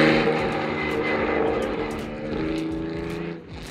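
A Formula 1 race car at the Buenos Aires autodrome roars loud and close, its high-pitched engine note sustained with rising and falling tones before easing off briefly near the end.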